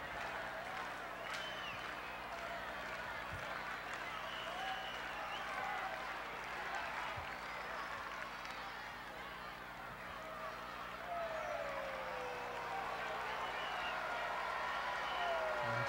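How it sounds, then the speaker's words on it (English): A cricket crowd at Sabina Park during a West Indies versus Ireland Twenty20 International applauds at a distance, a continuous murmur with scattered clapping, while a commentator's voice runs over the top. "The crowd, they've been rather appreciative as well. You probably hear them in the background."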